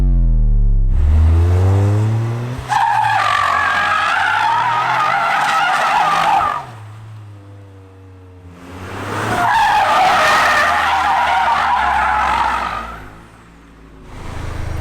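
Toyota GR Corolla doing a windmill donut, loud sustained tire skidding and squeal over a revving engine in two long passes with a brief lull between, close and dominant.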